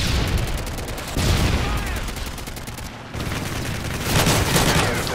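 Rapid bursts of gunfire from a Modern Warfare 3 team deathmatch on the Village map. The shots fire through trees in dense, continuous volleys, loud and close, with a few short pauses.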